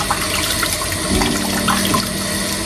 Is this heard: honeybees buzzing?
no